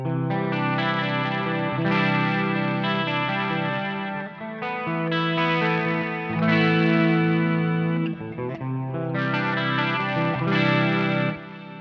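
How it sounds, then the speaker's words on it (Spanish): Electric guitar run through a pedalboard with chorus, delay and reverb: a series of strummed, ringing chords with a lush, wavering wash and trailing echoes, several phrases at steady loudness, no voices. "Y sumémosle un poco de reverb."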